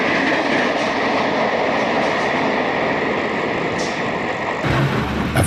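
An Erie Lackawanna westbound train passes across the meadows near Kearney, a steady loud rumble of wheels and cars with a sustained tonal whine, changing near the end as the consist goes by.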